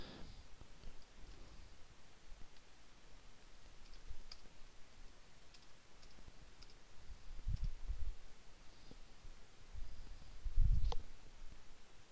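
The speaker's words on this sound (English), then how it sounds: "I'm just going to click anywhere in the document, and then I'm going to click Comment and click Add Sticky Note." Computer mouse clicks while working in a PDF document: sparse, quiet single clicks at irregular intervals over a faint room hiss, with no speech.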